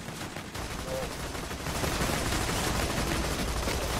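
In the Borderlands 2 video game, a flying enemy fires a dense, continuous rattle of gunshots, loud and unbroken throughout, with no talk over it.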